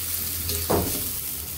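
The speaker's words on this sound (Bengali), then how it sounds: "ধনিয়া পাতার কুচিটা দিয়ে আমি আবার একটু নেড়ে নিব।" Eggplant and shrimp curry with chopped coriander gets stirred in a pan, one short spoon scrape over a soft, low sizzle.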